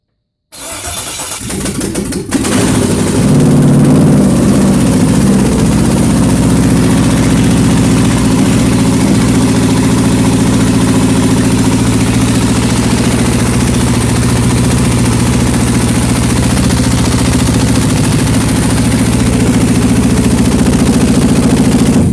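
A car engine turns over briefly and catches, then settles into a steady, loud, close idle with a low rumble that holds unchanged to the end; no one talks.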